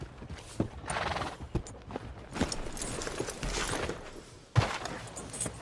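A horse in Red Dead Redemption 2 gives a sharp whinny and clip-clops along at a dealer's stable, hoof strikes spread in bursts, with one loud close thump near the end.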